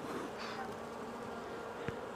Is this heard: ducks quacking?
no